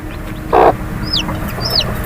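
A hen gives a single short cluck close by on a poultry farm, followed by faint chick peeps over low background noise.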